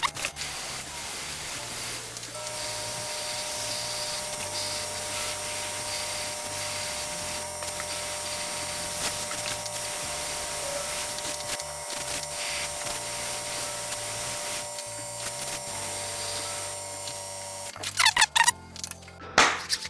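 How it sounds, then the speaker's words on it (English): Aerosol spray paint misted gently onto the nose of a 3D-printed Miles Morales Spider-Man piece, a steady hiss running for most of the stretch before ending in a few sharp clattering knocks. "Just very gently gonna try spraying this on like the top of the nose and stuff like that"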